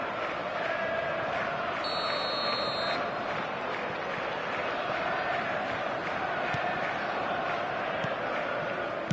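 Steady stadium crowd noise from an eFootball match, a continuous dense roar with chanting throughout and a brief electronic tone partway in.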